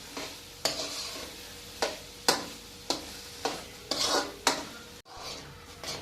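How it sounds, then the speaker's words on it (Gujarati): Vegetables and gravy for pav bhaji are stirred in a pan, with a spoon scraping the metal in regular strokes, roughly one every half second, over a soft sizzle close by. "અને સરસ રીતે આપણે મિક્સ કરી દેવાનું છે બધું શાકભાજી અને ગ્રેવી આપણે"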